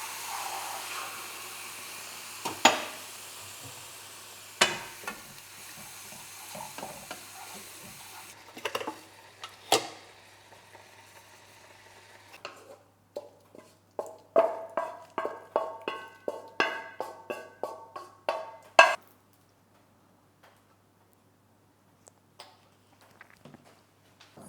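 Tofu cooking in a pan as a milk mixture is slowly poured in: a low sizzle and hiss with scattered clicks of a utensil, then a run of quick stirring scrapes and taps, fading to near quiet.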